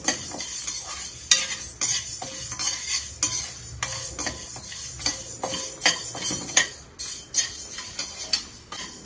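Urad dal being dry roasted and stirred in a hot kadai, with repeated scraping strokes of a spoon against metal and a rattle of lentils in an irregular rhythm, close and clear with no talk.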